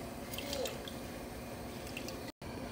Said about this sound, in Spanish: Vamos a poner el jugo de un limón.